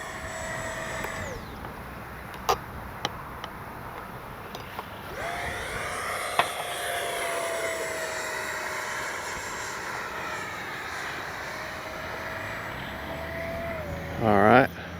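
An FMS F-16 64mm electric ducted-fan RC jet flies past in a crosswind, its high whine rising and falling as it passes overhead outdoors, with a pilot talking at times over it.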